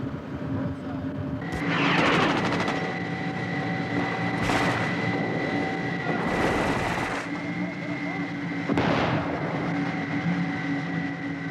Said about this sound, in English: Oh, a rocket landed right in front of our tank.